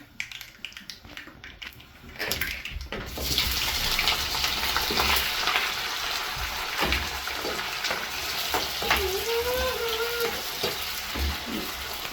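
Onions drop into hot oil for a squid curry and fry with a loud, crackling sizzle that starts after a quieter moment and holds steady close by, with occasional stirring clicks.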